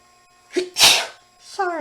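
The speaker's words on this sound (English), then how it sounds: "Other than sneeze from my allergies." A single sharp allergy sneeze, a short breathy intake followed by a loud explosive burst, then a voice begins speaking right after.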